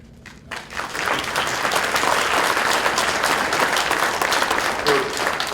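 Audience applause filling a city commission study session meeting room, a dense, sustained burst of clapping that starts abruptly and continues loudly throughout.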